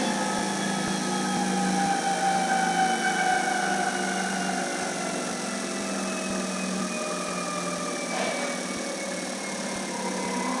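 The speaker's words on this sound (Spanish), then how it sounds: "Cuando yo ponga el motor a ralentí, ahora vamos a bajar revoluciones." A Motronic fuel-injection engine on an Elwe training rig idles with a steady, moderately loud hum and faint whining tones, holding an even pace throughout.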